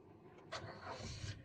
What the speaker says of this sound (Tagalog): Pandarin mo na makina mo.